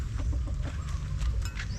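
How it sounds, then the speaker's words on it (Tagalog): Chickens cluck softly in short bursts over a steady low rumble, with a few brief higher chirps scattered through. "may mga manok sila dito."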